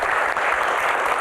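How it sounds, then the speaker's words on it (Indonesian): Audience applause following a Q&A panel session, a dense steady burst of clapping filling the room close and loud, with no talk over it. "tepuk tangan buat kita semuanya."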